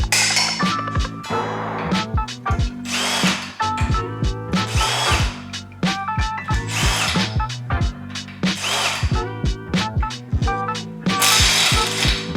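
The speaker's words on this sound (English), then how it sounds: "moved the chain out of the way so that I could start loosening off the cylinder head." A ratchet wrench clicks in rapid bursts while loosening the cylinder head bolts on a Porsche 911 engine, the pawl ratcheting loudly and close up with short pauses between strokes.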